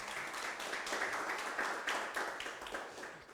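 Audience applause for a speaker named Ed at a donor-community talk, a steady dense wash of many hands clapping at moderate distance, sustained throughout with no talk over it.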